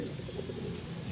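A pigeon coos softly in a loft, low repeated murmurs over a steady background hum, fairly quiet and continuous throughout.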